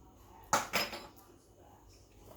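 A lid going onto a pot of homemade potatoes, two quick close metallic clanks of cookware followed by quiet room tone.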